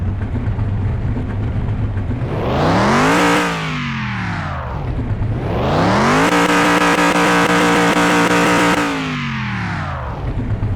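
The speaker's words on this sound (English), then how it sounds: "Good healthy sounding motor there." A Land Rover Defender engine in Car Mechanic Simulator 21 fires up and is revved loudly twice, each rise and fall of pitch sweeping smoothly over a steady, close idle.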